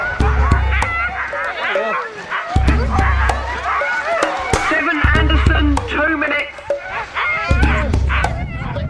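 Sled dogs bark, yip and whimper excitedly before a dogsled race, a busy overlapping chorus near and far, with a loudspeaker announcement and crowd chatter over it.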